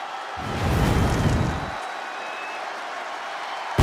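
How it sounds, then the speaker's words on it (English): Arena crowd noise from the WWE 2K26 wrestling video game: a dense, steady roar of cheering that swells for about a second, then settles into a continuous wash of crowd sound. "Listen to this crowd, the respect this man has earned."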